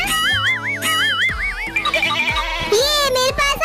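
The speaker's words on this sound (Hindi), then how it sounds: "ये मेरी बकरी है, ये मेरी बकरी है।" Close, loud goat bleats, a few quavering cries, one long and tremulous, overlapping with children's voices and shouting nearby.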